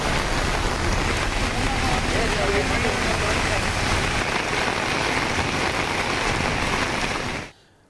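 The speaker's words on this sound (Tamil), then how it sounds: "வேலூர் மாவட்டம் காட்பாடியில் திடீரென இடியுடன் பலத்த மழை கொட்டியது" Heavy rain pours down steadily in Katpadi, Vellore district, a dense continuous roar with thunder in the storm, loud and unbroken until it cuts off near the end.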